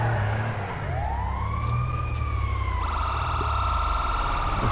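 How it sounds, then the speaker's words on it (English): A Grand Theft Auto V ambulance siren wails, rising and falling in long sweeping tones, then switches to a fast, steady warble, loud over a low rumbling engine. "It's an ambulance."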